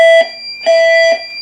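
A building fire alarm sounds in two loud, close pulses of a steady electronic tone, repeating in a regular on-off pattern with no voices.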